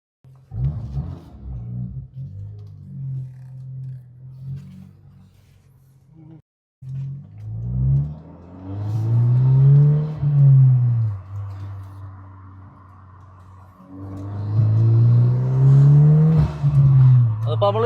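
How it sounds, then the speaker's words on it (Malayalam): A 2024 Volkswagen Golf R with an upgraded intake revs while driving, engine rising and falling in surges at half throttle, loud and close in the cabin, with intake roar and talk over it. "അപ്പോൾ തന്നെ നമുക്ക് ഇൻടേക്കിൻ്റെ സൗണ്ടും കാര്യങ്ങളൊക്കെ കേൾക്കാൻ പറ്റുന്നുണ്ട്"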